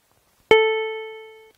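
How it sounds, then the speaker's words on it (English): A synthesized electric piano tone made by additive synthesis, a single bright note struck once with a sharp attack and a smooth, steady decay over about a second, clean and isolated with a faint click after it ends. "We're starting to get a slightly less boring electrical piano"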